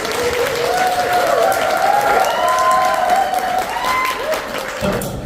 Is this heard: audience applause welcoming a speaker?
yes